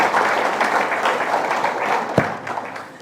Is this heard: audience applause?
yes